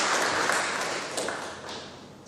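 Audience applause for Judge Dr. Faust Twaib at the opening of a national moot court competition, a dense, sustained wash of clapping from a large crowd that slowly fades.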